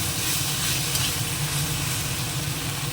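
Chicken frying in a pan with green chilli and salt makes a dense, loud, continuous sizzle up close, with faint stirring and no voices.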